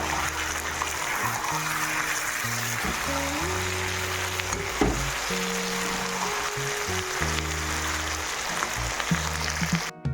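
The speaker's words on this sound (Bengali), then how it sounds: "এখন জল দিয়ে দিব।" Water is poured into a pan of browned, cooking meat, making a continuous loud hiss and bubbling sizzle that holds steady throughout, with a low hum underneath.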